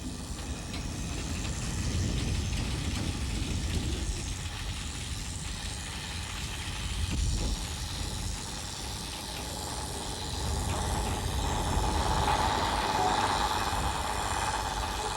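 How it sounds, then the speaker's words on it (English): A narrow-gauge steam locomotive pair working as a double header pulls away with a freight train on a German line, a steady low rumble and engine drone building gradually with no talk. "The narrow-gauge loco, which has been on shunting duty here, is ready to leave with the last freight of the day."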